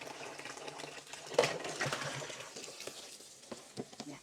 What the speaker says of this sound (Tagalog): naghuhugas ako guys